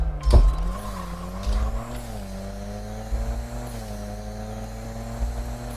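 Skyline launching in a drag race against a McLaren in the video game Racing Rivals, engine revving up in rising gear-by-gear tones with a sharp launch burst at the start, fairly quiet and without talk.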